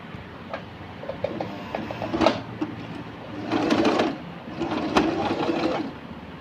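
Singer sewing machine fitted with a pintuck presser foot, stitching pintucks in short bursts of rapid mechanical whirring and ticking, with brief pauses between runs.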